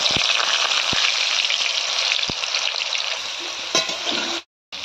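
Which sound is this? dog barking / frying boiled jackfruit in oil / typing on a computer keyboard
frying boiled jackfruit in oil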